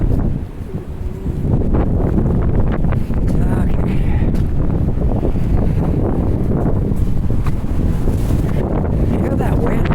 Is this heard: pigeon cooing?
no